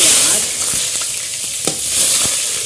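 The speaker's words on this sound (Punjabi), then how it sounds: "ਇੱਧਰ ਤੇਲ ਗਰਮ ਹੋ ਗਿਆ ਤੇ ਆਪਾਂ ਪਾ ਦਿੰਨੇ ਸਭ ਤੋਂ ਪਹਿਲਾਂ ਆਪਣੀ ਹਿੰਗ" Loud, steady sizzling of asafoetida dropped into hot oil, a continuous crackling hiss with a few scraping stirs.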